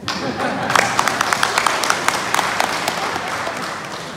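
Audience clapping at an official farewell-and-welcome ceremony for religious affairs officials in North Sulawesi, a crowd applause bed punctuated by sharp, distinct near claps, with no talk over it.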